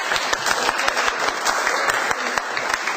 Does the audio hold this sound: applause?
yes